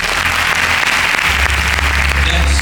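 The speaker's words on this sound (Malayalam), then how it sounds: "ഒരു ക്ലാപ്പ് കൊടുത്തേ." An audience claps loudly and steadily throughout at a live mentalism show, a dense continuous burst of applause from the crowd.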